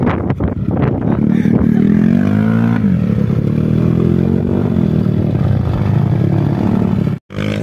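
A motorcycle on a long touring ride to Bromo, its engine droning loud and close with a rising, falling rev and wind rush, cutting out sharply near the end.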